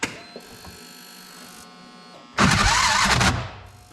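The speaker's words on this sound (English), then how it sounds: "The starter's starting hard, but at least it's starting now." Starter motor on a piece of farm equipment cranking hard, a steady whine followed by a loud, rough, grinding burst of about a second that then fades, close by.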